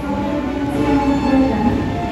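Close and steady, the Jayabaya economy passenger train runs with a continuous low rumble and rolling hum from inside the carriage, with no clear pauses or voices.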